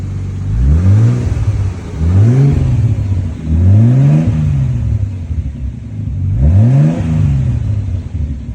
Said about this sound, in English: I'll give it some revs